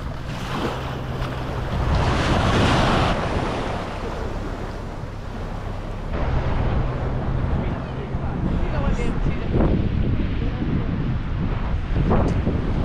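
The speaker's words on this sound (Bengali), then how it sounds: "আরুবাতে এখন আমরা ইগল বিচে আছি।" Sea surf washes and rushes at Eagle Beach in Aruba, loud and close under heavy wind buffeting the microphone, with voices talking faintly at times.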